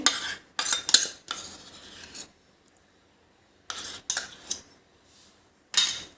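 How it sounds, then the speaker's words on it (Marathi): Cauliflower florets mixed with soy sauce, tomato sauce, green chili sauce and ginger-garlic paste in a bowl, heard as several bursts of scraping and rubbing with a utensil, separated by short pauses, close and without talk. "आता ह्याला व्यवस्थित मिक्स करून घेऊ"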